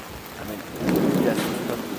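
A thunderstorm with driving rain hisses in a steady, dense downpour, swelling midway with a low rumbling roll of thunder.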